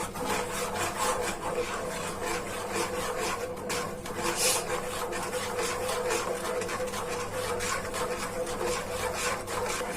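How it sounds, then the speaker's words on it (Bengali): Steady scraping and rubbing of a spoon stirring homemade green chili sauce in a pan as it thickens, a continuous close rasping texture with no pauses and no talking. "ঘন করার জন্য নাড়তে থাকি"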